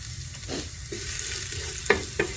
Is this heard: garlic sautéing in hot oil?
yes